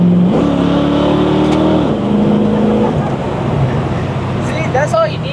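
A 1963 Chevy II Nova with leaf-spring suspension drives past loud and close, its engine droning steadily then easing off, followed by rumbling road noise and a brief voice near the end.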